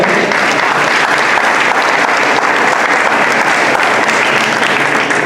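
A church congregation applauds continuously, a dense, loud wash of many clapping hands filling the space with no pauses or talk.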